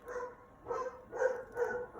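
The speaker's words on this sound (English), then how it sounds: "the dog barked" A dog barks in the background, four muffled, moderately distant barks spaced roughly half a second apart, with no talking over them.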